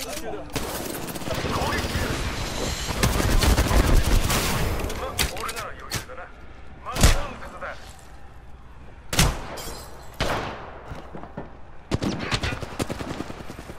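Gunfire in the Apex Legends video game: rapid machine-gun bursts and loud shots, heaviest early, then sporadic sharp reports between quieter stretches, with game voice lines in the mix.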